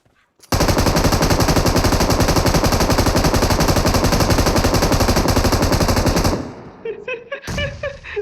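Machine gun fire in the mobile battle-royale game BGMI 4.1: one loud, rapid, unbroken burst lasting about six seconds, then abrupt silence followed by scattered quieter game sounds.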